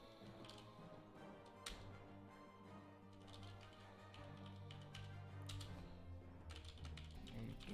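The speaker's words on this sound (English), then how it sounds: "Don't know what's up with me typing wrong passwords tonight." Soft, irregular keystrokes on a computer keyboard during a live coding stream, quiet and close over a steady background hum.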